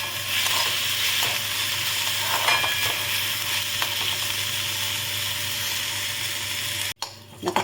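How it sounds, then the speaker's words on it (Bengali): Gobindobhog rice frying in ghee in a kadai gives a steady, close sizzle with occasional scraping stirs, running continuously before a brief break near the end. "এখন আমি ঘিয়েতে এই চালটা ভালো করে ভেজে নেব।"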